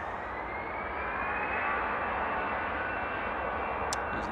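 An easyJet Airbus A320ceo departing Manchester Airport for Bilbao produces a steady, moderately loud jet roar with a rising whine, sustained without pause and heard without voices.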